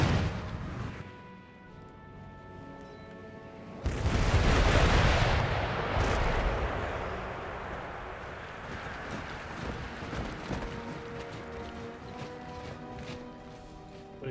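An artillery volley in Empire Total War, a deep booming blast that swells suddenly and rolls into a long rumbling decay over ambient battlefield noise and soft background music.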